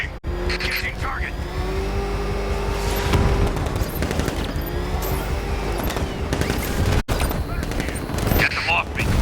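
Gunfire crackles over a roaring vehicle engine during a high-speed chase in Batman: Arkham Knight, steady machine-gun bursts and engine drone filling the whole stretch, with game voices talking over it.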